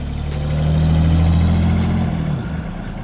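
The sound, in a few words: car engine running with repaired exhaust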